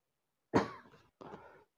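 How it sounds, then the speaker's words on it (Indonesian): A woman coughs twice during a therapy session, a sharp close cough followed by a softer second one, with silence around them. "Sekali lagi Bu. Batuk."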